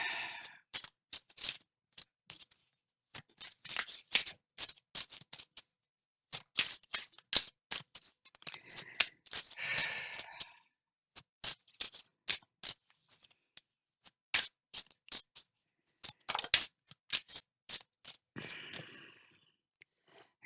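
Tarot cards are shuffled and drawn for a reading, with repeated crisp riffling bursts and papery snaps, close and dry, broken by short pauses and a few quiet breaths.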